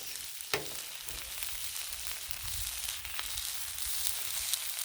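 Vegetables sizzle and fry on a hot griddle, a steady crackling hiss with occasional sharper pops and a stirring scrape, heard up close without any voices.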